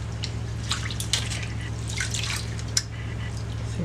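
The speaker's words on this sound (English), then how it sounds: "I'm washing my sticky rice to get a lot of the starch out" Sticky rice being washed by hand in water, with soft drips, splashes and rubbing sounds close by and a steady low hum underneath, no talking.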